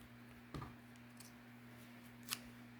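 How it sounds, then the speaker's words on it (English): Scissors cut a piece off while making a boho tassel, giving two faint, close snips about two seconds apart over a quiet room hum. "I'll cut a piece off."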